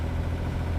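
A sailboat's engine drones at a steady idle, a low, even rumble with a faint mechanical throb, close and unbroken for a brief moment with no voices.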